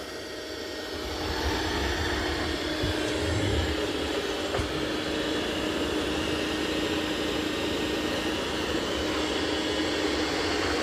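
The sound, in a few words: robot vacuum mop running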